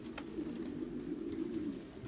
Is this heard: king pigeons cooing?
yes